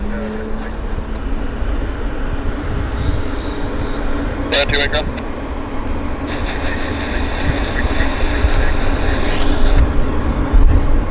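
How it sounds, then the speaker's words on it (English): Boeing 777 engines spooling up at Vancouver airport, a broad continuous roar with a rising whine that grows louder toward the end, heard under someone talking and a brief high chirp. "I love that sound of the 777 starting."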